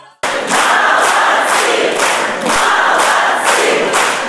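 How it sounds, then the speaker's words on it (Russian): A northern concert audience gives a storm of applause after a number: dense, sustained clapping from a large crowd that swells and dips in a steady rhythm, loud and continuous after a brief quiet start. "Свое теплое гостеприимство северная публика демонстрировала после каждого номера. Шквалом аплодисментов."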